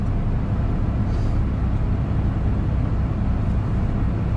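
A semi truck drives down the road, making a steady, loud, low engine and road rumble that holds even from start to end with no talking.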